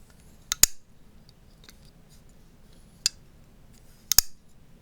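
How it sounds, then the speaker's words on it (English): A Benchmade 761 titanium frame lock knife snaps open with sharp, bright metallic clicks, heard close and clear in three quick bursts against a quiet background. "one of the most unique features about this knife is the sound that it makes when it's deployed"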